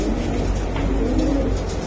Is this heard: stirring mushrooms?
no